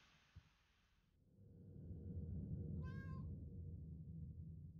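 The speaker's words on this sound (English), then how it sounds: "there's a strange cat at the end of the hallway" A strange cat at the end of a hallway in the video game Nightmare of Decay gives a single short, clear meow midway over a low rumbling ambient drone, with no talking.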